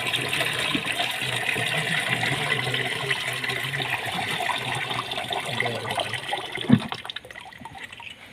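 Liquid poured in a thin stream into a Bordeaux mixture, a steady close splashing trickle running throughout, with a brief thump near the end.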